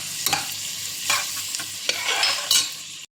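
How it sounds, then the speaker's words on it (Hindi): Whole spices (cinnamon pieces, cloves, black peppercorns, cardamom, shahi jeera) frying in onions, sizzling steadily with bursts of stirring scrapes in the pan, close and unaccompanied by talk. "हम इसको प्याज में डालकर भूनेंगे।"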